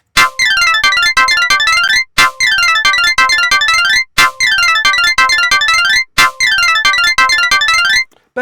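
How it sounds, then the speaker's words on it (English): Nine rhythms play against each other as polyrhythms in four loud, dense bursts of about two seconds each, separated by brief gaps, with many rapid percussive tones piling up into a cacophonous cascade. "let's see if we can hear the mirror effect going on in these 9 polyrhythms, or these 9 rhythms played against each other one more time."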